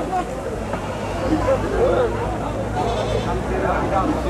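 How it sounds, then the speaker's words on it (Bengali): A large, well-bred billy goat at a busy traditional village livestock market bleats a few times, its calls rising over constant crowd babble and nearby talk. "আমাদের সামনে যে পাঠা ছাগলটি রয়েছে অনেক বড় একটি পাঠা ছাগল"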